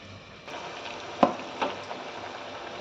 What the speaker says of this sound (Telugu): వేడి వేడిగా నూనెలో ఇలా వేసుకొని ఇలా కాల్చుకోవాలి